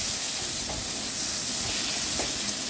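Spice paste frying in oil for a Bengali oil koi fish curry gives a steady, loud, close sizzle and hiss that continues without a break.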